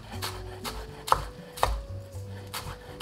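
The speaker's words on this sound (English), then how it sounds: "I'm just gonna chop up, just did 3 green onions." A kitchen knife chops three green onions for a summer salad in several crisp, evenly spaced cuts, each a distinct close tap, heard alone without talk.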